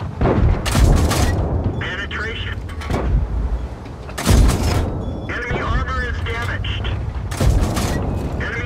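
Cannon shell impacts against enemy tank armor in World of Tanks, loud booming hits with metallic crunch, two heavy blasts a few seconds apart amid continuous rumbling battle noise, with voice announcements over the gunfire.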